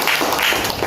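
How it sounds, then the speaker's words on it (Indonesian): Children in a classroom give a short burst of applause, a dense patter of hand claps lasting under a second. "Baik anak-anak, beri tepuk tangan."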